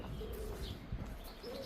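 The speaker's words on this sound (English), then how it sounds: "A little bit of greenery, a bit of bird song." Birds chirp and coo faintly beside a river amid greenery, their calls scattered and soft over a steady outdoor background hum.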